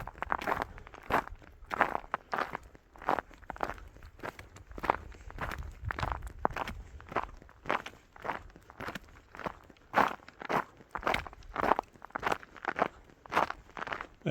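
Footsteps crunch steadily on needle ice covering the ground of a trail, with a regular walking rhythm of sharp, close crunches continuing throughout.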